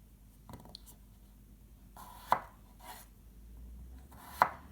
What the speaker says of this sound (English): we've sliced up our potatoes